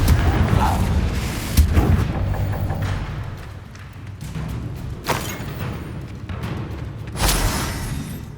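Spell explosions in Hogwarts Legacy, including the Confringo blast, heard as several loud booming impacts and sharp bursts spread through a noisy fight, with little talk.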